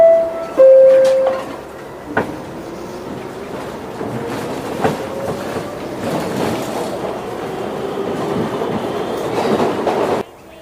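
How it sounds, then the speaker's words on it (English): A train horn sounds briefly, then the rolling rumble and clatter of a passing train builds and carries on before cutting off abruptly. "T for train."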